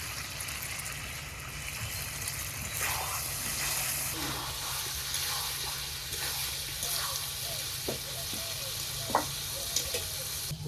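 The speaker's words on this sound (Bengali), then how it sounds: "এই যে এখন ভাজা মশলা ধনে গুঁড়ো আর জিরে গুঁড়োটা উপরে দিয়ে আরো কষাবো" Mutton sizzles in a pot with roasted coriander and cumin powder added, giving a steady frying hiss with occasional scraping stirs and faint background voices.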